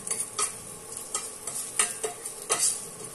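Patola and sotanghon soup with sardines being stirred in a pot, with quick repeated utensil scrapes and clinks in a close, fairly even rhythm over a bright hiss.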